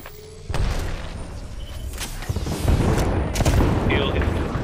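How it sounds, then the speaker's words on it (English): Heavy booming blasts from an airstrike in the video game Apex Legends, a dense barrage of loud explosions rolling on after a sudden onset, with gunfire mixed into the din. "they're using their airstrike"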